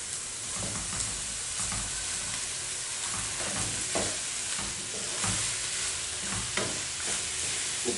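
Chicken biryani rice is stirred and turned in a pot over a gentle sizzle, heard close as scraping and soft clattering strokes with no talk, Kerala style.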